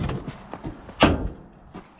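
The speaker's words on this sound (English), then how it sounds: "Ooh, that door sounds good." The door of a 1966 Chevy pickup with a 292 inline six shuts with one solid thunk, following a few lighter handling clicks and then fading into quiet.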